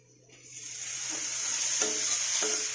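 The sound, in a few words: tomatoes added to hot pan sizzling for vegetable curry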